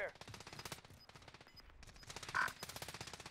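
Automatic gunfire in the video game Warzone comes as rapid rhythmic bursts of shots, some close and sharp, others a little more distant, with brief pauses between volleys.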